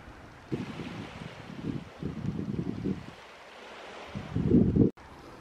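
Outdoor wind gets stronger and buffets the microphone in several rough gusts, the loudest burst coming near the end before a sudden cutoff.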